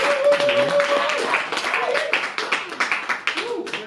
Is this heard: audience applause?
yes